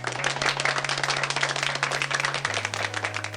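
Preset applause effect played from a Comica ADCaster C2 streaming sound pad: dense crowd clapping, loud and steady, with a low electronic hum underneath.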